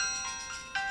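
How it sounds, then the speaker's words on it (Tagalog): A cellphone rings with an incoming call, a soft repeating electronic ringtone heard faintly and alone over a steady background hiss. "Numero laang tumawawag ti agparparang iti cellphone ko."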